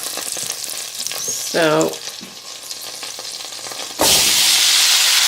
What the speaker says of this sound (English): It's nice and melted. And I'm gonna go ahead and throw in the spaghetti.